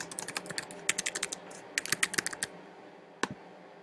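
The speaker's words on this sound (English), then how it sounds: "we'll type in the address that was left on the voicemail" A computer keyboard clatters nearby in short bursts of crisp keystrokes, with brief pauses and a lone final tap.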